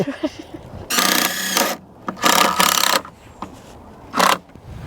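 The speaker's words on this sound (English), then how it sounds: "right here I'm using 3-inch deck screws" Power drill driving 3-inch deck screws into a wooden compost frame, three loud whirring bursts of about a second, a second and under half a second, separated by short pauses and light handling clicks.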